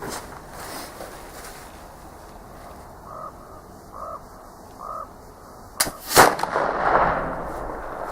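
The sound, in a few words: Traditions pellet flintlock firing with 777 powder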